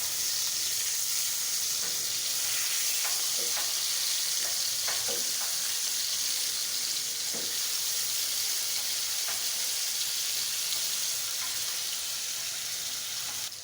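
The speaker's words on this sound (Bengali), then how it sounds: "মাছগুলো ভাজা হয়ে গেছে, এখন উঠিয়ে নেব সবগুলো মাছ" Pieces of pangas fish sizzle in hot oil in a pan, a dense continuous hiss with occasional soft clicks from stirring, close and with no one talking.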